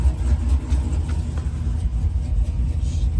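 A straight-piped, cammed Jeep SRT8 idles cold after sitting overnight, a steady low, lumpy rumble held close and loud throughout with no other sounds on top.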